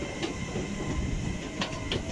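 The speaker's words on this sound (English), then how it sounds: "There's a 387 is leaving as well." Class 387 electric train pulling out of Didcot Parkway station, a steady low rumble of wheels on rails with a couple of light clicks, heard from the platform.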